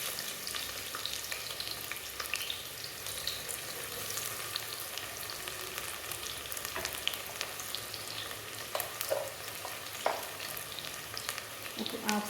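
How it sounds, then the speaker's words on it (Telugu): Thinly sliced onions hit hot oil and fry with a continuous close sizzle, punctuated by stirring scrapes and a few sharper clinks of a utensil against the pot. "ఇవి వేడవగానే సన్నగా కట్ చేసి పెట్టుకున్న ఉల్లిపాయలు వేసుకోవాలి."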